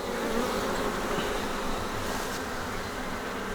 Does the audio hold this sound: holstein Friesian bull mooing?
no